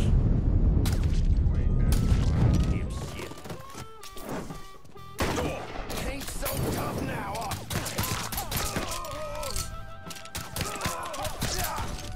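Gunfire and heavy booms from a Mafia III firefight, starting with a loud dense burst and then scattered shots and impacts alongside game voices.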